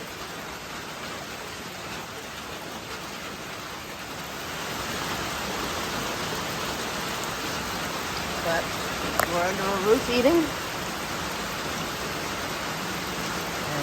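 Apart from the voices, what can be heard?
rain falling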